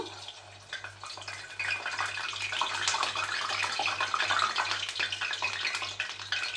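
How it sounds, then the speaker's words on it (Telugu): Rice bondas (fritters) fry in hot oil with a dense, bubbling crackle that grows louder after the first seconds and then holds steady up close, with no speech. "చూడండి ఆయిల్ కూడా బాగా హీట్ అయిపోయింది. ఇప్పుడు మనం బొండాలాగా చేసుకొని వేసేసుకుందాము."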